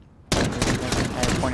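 Rapid bursts of gunfire in the Modern Warfare Warzone battle royale game, a loud, dense volley erupting suddenly after a quiet moment and continuing without pause.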